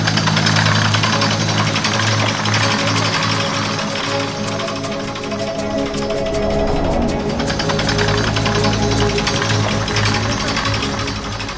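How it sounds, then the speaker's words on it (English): Water well drilling rig at work on a drilling site in El Salvador, a loud, continuous engine drone with rapid hammering percussive pulses that persist without pause. "Hours later, the drill was fixed, and it was time to place drill bit number 1 and to start drilling."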